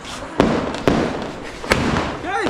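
Diwali firecrackers going off at a family celebration at night: several sharp loud bangs, three distinct cracks at irregular intervals over a noisy outdoor background, with a brief whistling swoop at the end.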